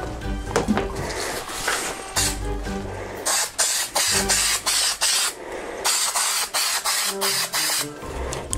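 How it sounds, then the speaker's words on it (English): Spray adhesive hissing from an aerosol can in short, repeated bursts, close by, with bits of handling noise between sprays while a costume cowl is glued. "we're going to use spray adhesive"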